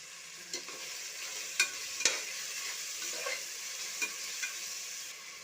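Ginger, garlic and tomato fry in a pan with a soft, steady sizzle, broken by a few light stirring clicks and scrapes; the sound is quiet and close, with no talking.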